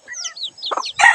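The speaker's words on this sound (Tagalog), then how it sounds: "Ito, manok." A chicken clucks close by in short, bright bursts, with high chirping calls before a louder final squawk.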